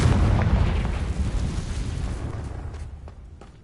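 Confringo fire spell going off in Hogwarts Legacy: a heavy, loud explosive boom with a deep rumbling body that slowly decays over a few seconds, heard alone without any voices.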